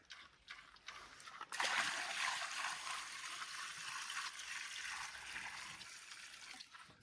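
Water splashes and pours steadily for several seconds for pigs on a farm in Portugal, a bright sloshing rush that starts suddenly after a few faint drips.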